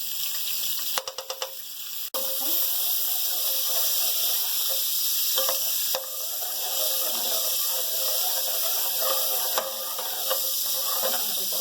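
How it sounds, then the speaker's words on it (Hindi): Butter melting in hot oil in a pan for chicken makhni handi, a steady bright sizzling hiss throughout, with a few quick clicks and clatters near the start and occasional light bumps, no talking. "जैसे ही हल्का सा ऑयल गर्म होगा फिर हम इसके अंदर ऐड करेंगे हमारा मक्खन"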